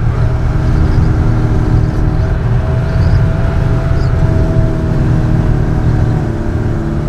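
A 1980 Mercedes truck rolls along a mountain road in Ladakh under engine braking, its diesel drone loud, steady and continuous throughout with no talk over it.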